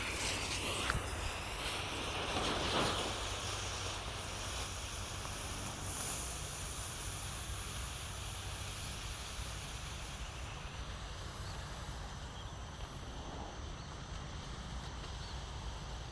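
Colored smoke balls laid in a circle burn with a steady broad hiss, close and unbroken for the whole stretch, with only faint background noise and no talk.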